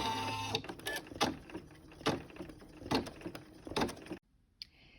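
An embroidery machine runs a placement stitch in the hoop, making a close series of rhythmic mechanical thumps and whirring bursts that stop abruptly near the end.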